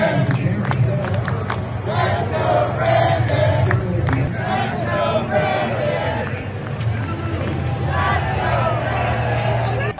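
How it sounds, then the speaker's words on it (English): A rally crowd chants "Let's go, Brandon" in a dense, continuous roar of many voices, loud and sustained throughout with rhythmic swells and cheering mixed in. "as you can hear the chants from the crowd"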